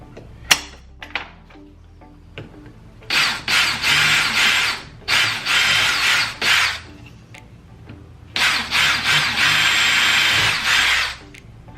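A power drill whines in three long bursts with short pauses between, close and loud, with light clanks and handling noises in the gaps.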